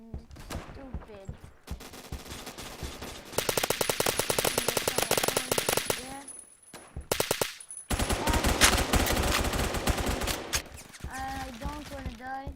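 Rapid automatic gunfire from Roblox Phantom Forces rattles in loud sustained bursts with brief pauses between them, and a player's voice talks over parts of the shooting.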